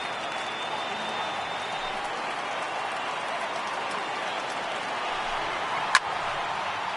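A simulated baseball stadium crowd of over 39,000 in MLB The Show 18 roars in a steady, dense wash of cheering and applause, with one sharp crack standing out near the end.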